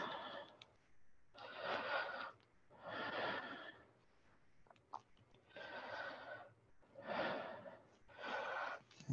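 Slow, deep breathing during a yoga pose, with four or five long, audible breaths in a steady rhythm, close and alone, separated by quiet pauses.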